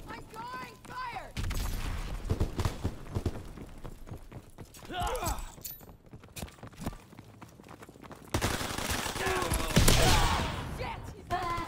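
Bursts of gunfire in Call of Duty WWII, scattered shots and rapid volleys coming in clusters along with footstep-like thuds and other game noise, while players talk over it.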